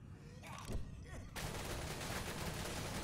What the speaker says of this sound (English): Survivors looking to do a little bit of chipping by shooting through the stairway.